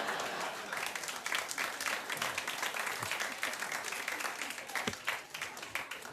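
A studio audience at a comedy show breaks into steady applause, dense clapping with scattered whoops, moderately loud and continuous across the whole stretch without anyone talking over it.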